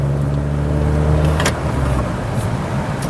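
A Mercedes-Benz C200 W202 with a freshly rebuilt engine runs smoothly, a steady low hum heard from the car with a brief clunk midway and soft road noise afterward.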